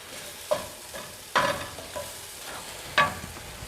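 Garlic and mushrooms frying in a pan: a soft continuous sizzle under occasional louder scrapes and clinks of a utensil stirring, close-up and moderate in level, with no voices.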